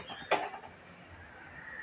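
A cooking pan is set down on a gas stove with one sharp metallic clank, followed by a quiet kitchen.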